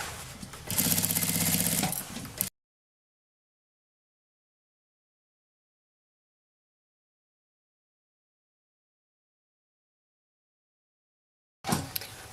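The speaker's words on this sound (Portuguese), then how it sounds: "vou passar essa costura, então, na boca da nossa bolsa aqui, ó, em toda a volta" A sewing machine stitching around the opening of a fabric bag, a short fast mechanical whir for about two seconds, then silence before it briefly starts again at the end.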